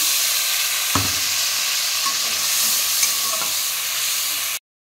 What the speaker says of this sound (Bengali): ফুলকপি আলু ভাজার পরে ওই তেলেই আমি টমেটো দিয়ে দিলাম, আদা জিরে বাটা